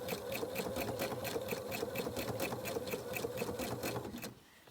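A sewing machine stitching a blind hem runs in a fast, even rhythm of close mechanical clicks over a motor whir, then stops abruptly near the end, leaving quiet.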